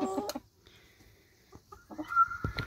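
Hens cluck in a backyard chicken coop, with a short burst of clucks at the start, a quiet gap with faint scratchy sounds, then a louder run of clucking near the end.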